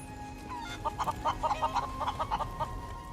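Hens clucking in Final Fantasy VII Rebirth, a rapid run of short, close clucks over a faint steady hum.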